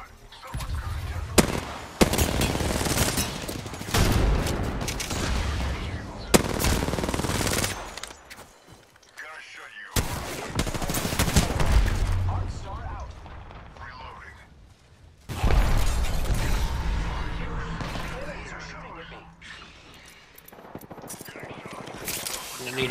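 Heavy gunfire in the video game Apex Legends: rapid automatic bursts and scattered shots, loud and close, broken by brief pauses, with dense game effects throughout.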